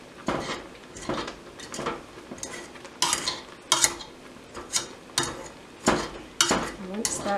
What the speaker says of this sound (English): So take a potato masher and mash it up